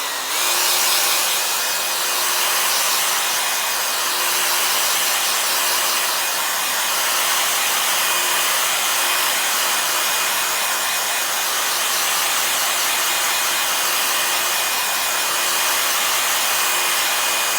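A hair dryer blows steadily at close range while drying freshly applied leather colourant paint, a loud continuous whooshing hum with a faint high whine and no pauses.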